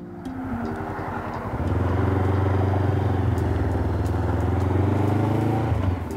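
A Honda CB500F motorcycle with an aftermarket exhaust rides past, its engine note rising to a loud, steady drone that holds for several seconds before easing off, with no talking.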